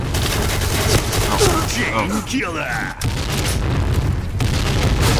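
Rapid gunfire and booming shots from the Point Blank online shooter on a warship map rattle loudly and continuously, with a brief dip midway and a voice speaking over the action.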